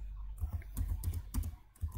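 Keys on a computer keyboard are tapped close by in quick, uneven bursts of soft clicks while shortcuts are entered in a terminal during a Python tutorial on Ubuntu in VirtualBox, with no talk over them.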